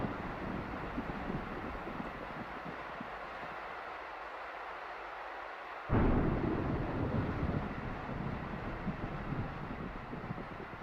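Thunder from a weather system in a Godot 3D island game: low rumbling ambience that breaks into a sudden loud crack near the middle, then a long sustained rolling rumble, with no voices.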